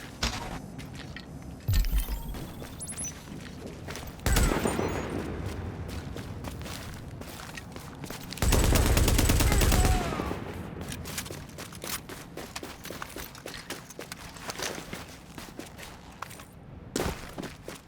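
Fast LMG fire in the video game The Division comes in loud bursts, with a long sustained burst near the middle, mixed with footsteps, clattering gear and other game effects.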